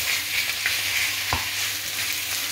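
Chicken frying in a hot wok for Cantonese garlic chicken, a steady close sizzle throughout with a couple of brief clacks from stirring or the pan.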